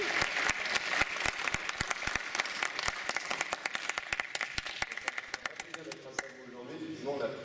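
Sustained applause from a conference audience, dense overlapping claps with a few sharp louder ones, tapering off near the end as a voice begins to speak.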